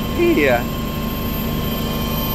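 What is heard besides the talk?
VIP helicopter in flight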